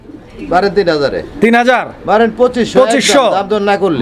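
Fancy pigeons coo close by in a market-style setting. Their rounded, repeated calls blend with a person talking over them.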